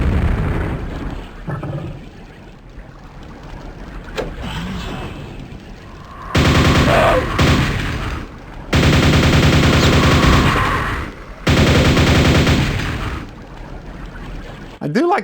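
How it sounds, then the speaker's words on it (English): Loud bursts of gunfire from guns in the VR version of the shooter Quake, coming in sustained volleys of rapid shots with short gaps between them, following a quieter stretch of game ambience near the start. "I do like the way the guns sound in this game"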